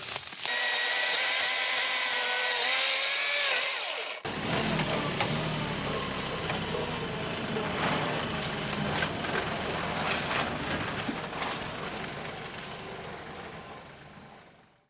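An engine whines steadily, then a chainsaw chews through brush with rough, grinding cuts and crackling wood for several seconds, close by.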